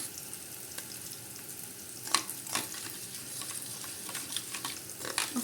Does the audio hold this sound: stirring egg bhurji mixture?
yes